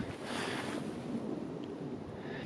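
A wintry gust rushes across the microphone beside a campfire in the snow, a steady, fairly loud roar of wind buffeting that lasts the whole moment.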